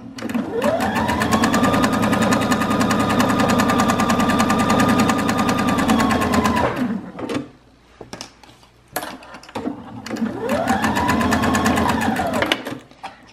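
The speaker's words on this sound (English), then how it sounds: "just while you're sewing, just have your kids follow the line that they drew on their fabric, all the way around" A domestic sewing machine stitches fabric in a long steady run of rapid needle clatter, pauses briefly amid small handling noises, then starts again for another shorter burst, close and loud.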